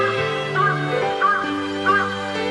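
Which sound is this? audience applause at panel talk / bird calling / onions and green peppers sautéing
bird calling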